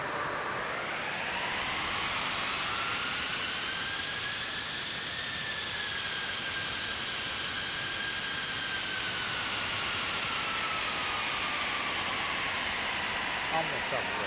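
Boeing 747 jet engines spool up to takeoff thrust in Flight Simulator X, a steady, loud roar with a rising whine that holds continuously throughout, with no voices.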